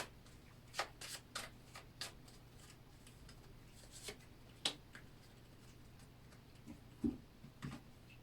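Oracle cards being shuffled, giving a scattered run of soft flicks and snaps, close and fairly quiet, with a few sharper taps standing out and no talking.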